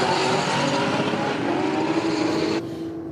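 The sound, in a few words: drag race cars launching, Holden Commodore versus Mitsubishi Sigma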